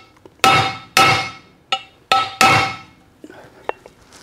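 A piece of old shifter tapping an expansion plug flat into a T5 transmission case, giving five sharp metallic strikes in an uneven rhythm, close and loud, followed by a few fainter clicks.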